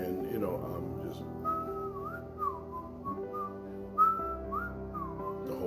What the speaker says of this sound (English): So when I'm at the store, I whistle